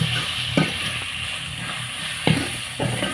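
Chicken roast masala is stirred and fried in a pan over a wood-fired stove: a constant close sizzle with three distinct scraping strokes of the spatula against the pan.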